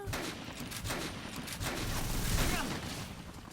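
Sniper gunfire in the Dead Rising video game: a dense, continuous rattle of rapid shots and booms with whooshing effects, loud and unbroken across the short span, with a voice talking over it.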